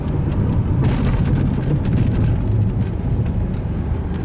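A cold Fiat Linea engine idles steadily with a dense low rumble and faint ticking on top, close and continuous with no talking.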